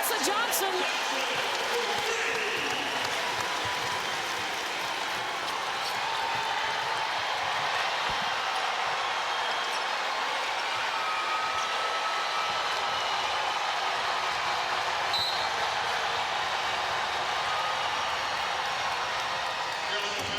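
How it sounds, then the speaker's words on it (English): A sold-out women's basketball crowd at Colonial Life Arena, South Carolina hosting Oklahoma, swells into a broad, steady roar that fills the whole stretch while a commentator talks over it. "You could hear Colonial Life Arena starting to get loud."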